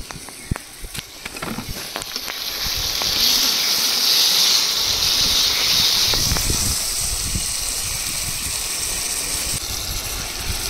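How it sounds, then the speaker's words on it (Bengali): Prawn curry masala with yogurt, poppy seed and chili paste is sautéed in a pan, producing a loud steady hiss that swells after a few scattered knocks and scrapes, then holds at a constant level for several seconds with no talk. "এবার পোস্ত আর লঙ্কা বাটা দিয়ে এখনো 2 মিনিট কষিয়ে নেব।"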